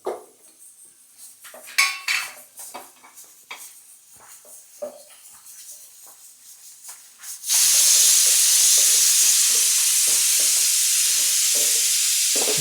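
Grated coconut stirred into a hot pan after the stove is turned off, first light scraping and clinking of a spoon against metal, then a steady loud sizzling hiss that fills the rest.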